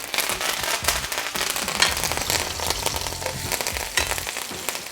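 Crushed garlic, butter and thyme sizzling in a hot steak pan, with dense, loud crackling and spitting that runs continuously throughout.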